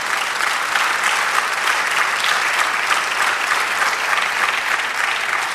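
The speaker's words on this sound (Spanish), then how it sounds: "sí, dale el aplauso" A church congregation breaks into strong, sustained applause, loud and even from start to finish with no talking over it.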